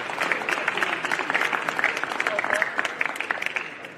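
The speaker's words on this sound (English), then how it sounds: "Let's give them a round of applause." Audience applause at a high school athletic ceremony, a steady dense roll of clapping from a crowd filling the whole moment, fairly loud and sustained without a break.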